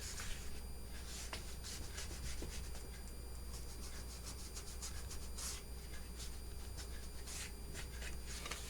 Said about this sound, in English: And then you're going to want to ink across this top fold.